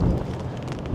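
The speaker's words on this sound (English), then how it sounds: "Got a nasty gust." Nasty gust of wind on a frosty Toronto street, a brief, loud low rumble buffeting the microphone.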